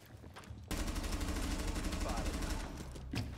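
Rapid gunfire from a Rainbow Six Siege match, a dense stretch of shots packed close together and fairly loud, with a player's voice talking over the shooting.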